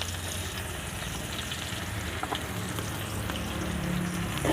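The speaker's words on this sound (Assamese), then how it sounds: "এই একেখিনি তেলতে এতিয়া মই ইয়াত পিঁয়াজ কেইডোখৰ দি দিছোঁ।" Chopped onions frying in a pan of hot oil for a fish curry with ash gourd and jackfruit, a steady close sizzle and crackle running evenly throughout with no talking.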